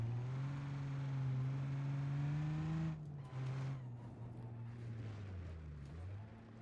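In the BeamNG video game, a Ford Galaxie with a Cummins diesel engine driving on dirt roads, its engine droning steadily and rising, then dipping as gears shift, loud and alone.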